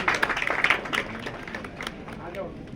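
An audience claps at a Shiv Jayanti celebration at a museum in Mount Abu, a burst of scattered applause at the start that thins out and fades into softer room noise.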